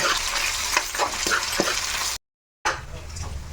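Green chillies, carrot and curry leaves frying in a pan for semiya upma, a dense close sizzle with a few stirring knocks, cut by a brief silent gap before the frying resumes.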